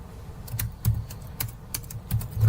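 Close, crisp keystrokes on a computer keyboard while entering text in Microsoft Word, arriving in irregular bursts of clicks with short pauses between them and no voices.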